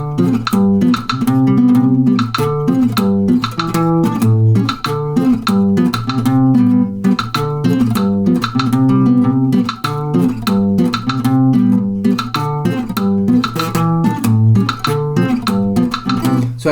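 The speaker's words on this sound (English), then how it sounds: "I'm going to play the montunos like I was just doing" Piano montuno pattern over 2-5-1 chords against a 3-2 clave, a repeating syncopated chordal figure played loud and close, with a metronome-like click marking the beat throughout.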